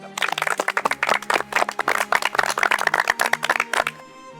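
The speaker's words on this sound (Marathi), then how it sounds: "एकदा तुम्हीच तुमच्यासाठी टाळ्या वाजवा" A seated group after a kabaddi game claps for themselves, a steady burst of close, brisk handclaps lasting a few seconds before stopping.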